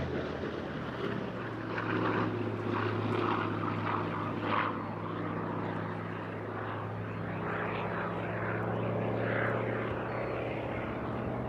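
Hawker Fury propeller-driven fighter aircraft passes at an airshow with a steady, moderately distant engine drone and propeller buzz that swells and fades slightly, with faint crowd ambience.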